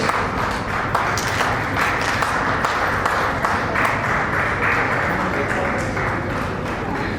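An audience applauding at a school graduation ceremony, dense steady clapping from many hands filling the hall throughout, moderately loud, with no clear speech.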